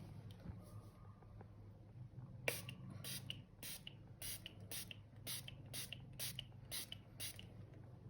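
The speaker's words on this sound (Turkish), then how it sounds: "Daha sonrasında yine Krylon'un fixer spreyi ile" Repeated short hisses from an aerosol can, about a dozen quick bursts in a steady rhythm, faint and close, with no talking.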